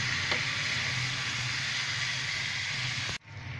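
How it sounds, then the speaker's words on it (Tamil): Chicken and masala stirred together in a hot pan, giving a steady close sizzle and hiss that runs throughout and cuts off sharply near the end. "இந்த மசாலாவும் சிக்கனும் சேர்ற மாதிரி லைட்டாக கிண்டி விடுங்க."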